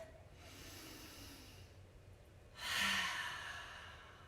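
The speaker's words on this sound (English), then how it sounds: "Inhale through your nose, exhale through your mouth." A slow deep breath during a stretching workout, drawn in quietly through the nose and then let out as a louder, breathy exhale through the mouth, close and soft with no talking.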